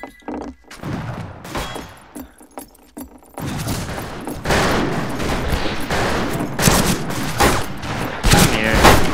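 Video game gunfire: after a quieter start with a few scattered sharp shots, rapid bursts of loud cracks build into dense, continuous firing that lasts to the end.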